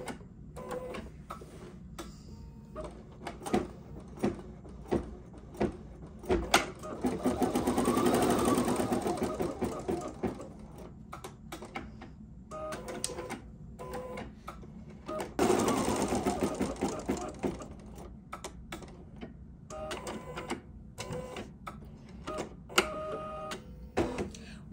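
Embroidery sewing machine stitching down an appliqué block in a hoop, two sustained runs of steady rapid needle stitching separated by intermittent clicks and clacks of the machine, fairly close and alone without talk.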